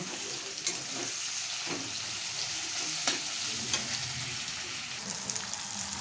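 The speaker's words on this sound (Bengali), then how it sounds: "এদিকে মশলা চিকেনের জন্য কষা ভালো করে কষিয়ে তারপরে জল দিয়ে দেব" Chicken pieces with spices stir-fried for chicken biryani, giving a steady broadband sizzle with occasional scraping clicks of the stirring utensil, close and continuous with no talk.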